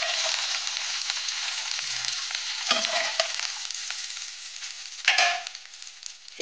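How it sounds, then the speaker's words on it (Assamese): Fish sizzles steadily as it fries in hot oil in a pan, a loud, continuous crackle with occasional stirring scrapes and a sharper burst near the end. "মাছকেইটা ভজা হৈ গ'ল।"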